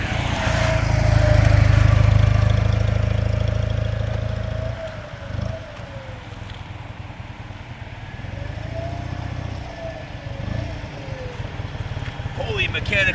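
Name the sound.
1965 BMW R50/2 vintage motorcycle engine idling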